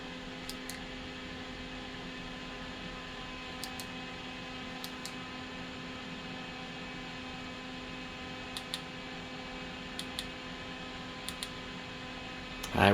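A five-blade ceiling socket fan runs on high speed with its light on, giving a steady, faint hum and soft whir with a few small clicks, no talk.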